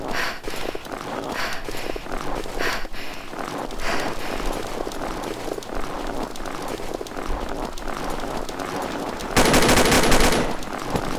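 Gunfire from the online shooter Combat Arms, with dense bursts of automatic fire rattling steadily throughout, fairly loud and close, and a harsher, louder burst near the end.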